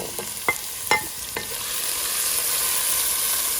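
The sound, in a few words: frying ground onions in a pan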